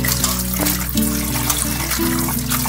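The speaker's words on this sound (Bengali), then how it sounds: "আমি খুব ভালো করে পরিষ্কার করে ধুইলাম। আমি আরবারও জল দিয়া দেব।" Water poured over tangra fish during washing, a steady splashing trickle into a vessel, close and continuous with no talk.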